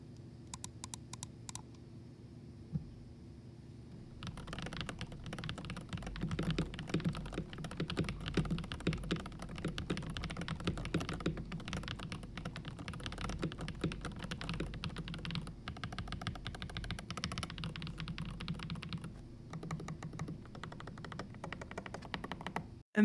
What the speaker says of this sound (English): I will go ahead and drop a quick sound test and end up the video.